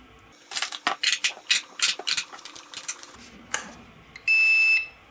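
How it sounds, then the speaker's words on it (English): An XK 2.4 GHz four-channel RC transmitter for a WLtoys A210 T-28 Trojan mini airplane, running on four AA batteries, powers up with a steady electronic beep near the end, after a run of clicking and handling noises. "And turns on and beeps and waits to bind to the airplane."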